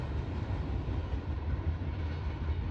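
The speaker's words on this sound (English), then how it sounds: "Good train." A Norfolk Southern train passes on the Dayton district, giving a steady, continuous low rumble and rolling roar that holds even throughout, with no voices.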